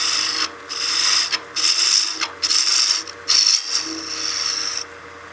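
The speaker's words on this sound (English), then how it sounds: "I'll do some peel cuts just to get to the diameter, starting diameter that I want to be at for the head." Wood spinning on a lathe as peel cuts bring the head of a German smoker figure down to diameter: a bright, continuous close shaving hiss that cuts in and out in short bursts as the tool lifts and re-engages, no voices.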